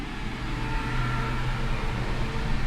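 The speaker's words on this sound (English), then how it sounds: "It's another pickup truck drove by" A pickup truck driving by on a street in Southfield, Michigan gives a continuous low engine rumble with a faint hum. The sound stays fairly even and swells slightly toward the end.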